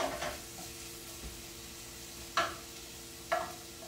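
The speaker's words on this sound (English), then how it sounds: "Stir it around a little bit" Thawing food being stirred around a frying pan: a quiet, steady sizzle broken by three distinct scraping strokes of a utensil across the pan, close and with no talking.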